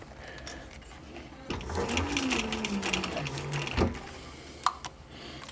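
A sewing machine back-stitches a military patrol cap, its needle running in a steady mechanical whir with a short pause and some small clicks, close and clear under light background sound.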